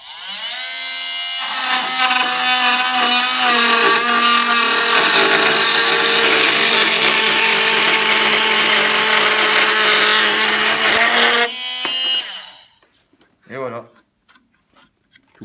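A Fein oscillating multi-tool cutting, a loud, steady high-pitched buzzing drone held for about ten seconds, then cutting off abruptly, followed by a few faint knocks.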